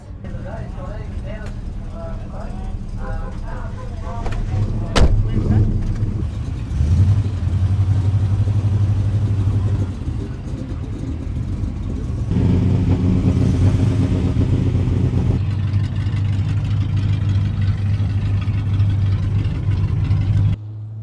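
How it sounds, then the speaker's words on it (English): A Leyland P76 car driving a parade lap at a classic car event gives a steady, moderate engine drone that changes tone a few times, with people talking over it throughout. "I'm going to get to drive in a parade lap in the P76."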